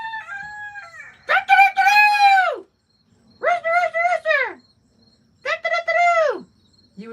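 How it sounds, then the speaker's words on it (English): A rooster crowing at midday near a tiny home, three loud, close, drawn-out calls separated by short pauses, with faint insect chirping in the quiet gaps. "It's our lunch rooster."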